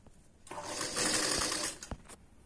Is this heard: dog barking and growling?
no